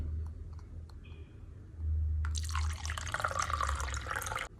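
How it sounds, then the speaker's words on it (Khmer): Water is poured into a Venus flytrap pot, heard as a few light drips and then a steady close trickle and splash for a couple of seconds, over a low background hum. "ឥឡូវខ្ញុំចាក់ទឹកចូលក្នុងនេះសិន"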